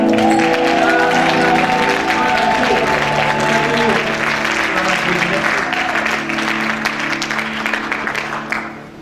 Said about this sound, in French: Est-ce que nous pouvons apprécier et acclamer pour le Seigneur pour la chorale?